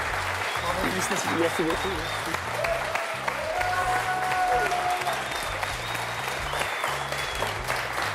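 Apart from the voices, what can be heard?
applause for quiz show winner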